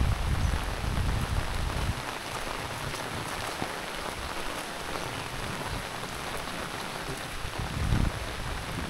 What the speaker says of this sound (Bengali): আসলে মুষলধারে বৃষ্টি হচ্ছে, কমতেছে না